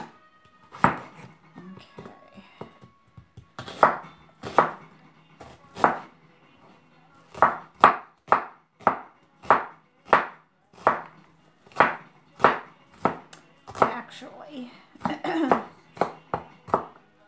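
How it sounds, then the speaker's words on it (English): A kitchen knife chopping half an onion on a cutting board, close and sharp strikes coming in uneven bursts with short pauses, speeding into a quick steady run midway. "we're going to cut up half an onion"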